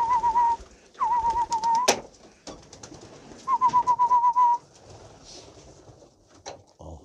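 Pigeons cooing close by in repeated rolling, whistle-like phrases, with short pauses between bursts and some faint rustling in the gaps.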